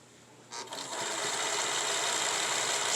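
A sewing machine stitches a line across fabric near the edge of a pleated piece, starting up after a moment of quiet and then running in a steady, continuous whir, fairly close and alone.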